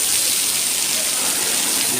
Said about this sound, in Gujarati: જોરદાર બપોરના સમયમાં વરસાદ ચાલુ થયો છે આજે